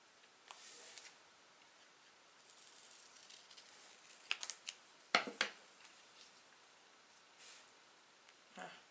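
White sticker paper is cut with scissors in a quiet room, giving a few soft snips and crisp paper rustles, with a sharper cluster of cuts near the middle.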